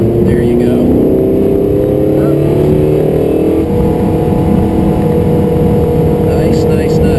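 Can-Am Spyder three-wheel motorcycle engine under gradual throttle, a loud close droning motor note that rises steadily, with wind rush throughout and no talk.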